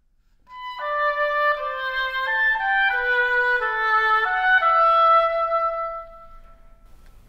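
Solo oboe playing a flowing melodic phrase of reedy, sustained notes that shift in an eighth–quarter–eighth rhythm, close and clear, ending in a fading held tone with no talking.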